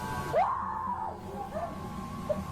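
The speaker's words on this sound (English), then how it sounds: "the woman lets out a guttural scream" A woman in a store lets out a guttural scream, a rising then sustained strained cry lasting about a second, followed by fainter vocal sounds against a background murmur of shoppers.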